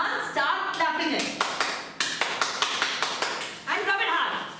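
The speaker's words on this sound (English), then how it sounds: "now take your hands together and start clapping it." A classroom audience at a math memory talk claps their hands, starting with scattered uneven claps and then settling into a series of sharp, rhythmic, near claps, with brief talk over the start.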